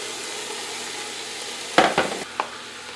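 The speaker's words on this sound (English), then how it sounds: "now we're going to add the pork butt" Cubed, marinated pork butt hits a hot pan for menudo, a steady sizzle breaking into several sharp bursts of crackling as the pieces land.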